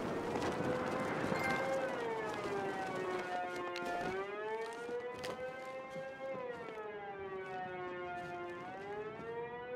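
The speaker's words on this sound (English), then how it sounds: "This siren has been going on all stream." A civil defense siren wails steadily in the video game Batman Arkham Knight, its pitch rising and falling in slow sweeps, loud and continuous with no one talking.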